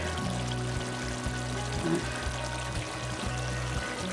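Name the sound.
pouring oyster sauce into egg roll filling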